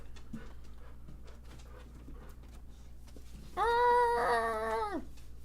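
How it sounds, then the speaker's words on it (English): An indoor dog pants softly for a few seconds, then lets out a single loud, drawn-out whine close by. "Look at this dog."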